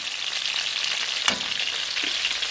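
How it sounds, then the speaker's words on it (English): Chicken pieces fry and brown in a pan for arroz con pollo, a steady close hiss and crackle of sizzling oil running throughout, with one brief louder pop. "Now you can see that our chicken is beginning to brown on the outside."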